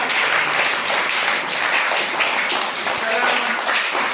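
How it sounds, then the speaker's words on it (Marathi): Students applaud together at an educational talk, a steady dense wash of clapping that holds at an even, fairly loud level throughout with no pauses. "टाळ्या वाजा."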